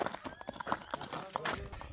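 Horse hooves clip-clop in a quick, uneven rhythm close by, a fast-moving horse being checked for its gait, with a few faint voices in the background.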